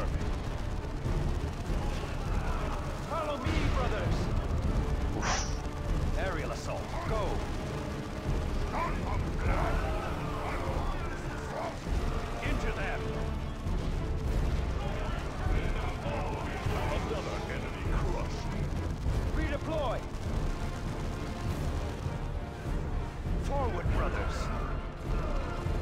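Squad gunfire and battlefield blasts from Dawn of War II: Chaos Rising, a steady dense clatter of shots and booming impacts running throughout under a game soundtrack, with voices talking over it.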